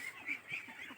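Khaki Campbell ducks feeding at a pond give faint, repeated quacks and honks in a quick, soft series at a distance.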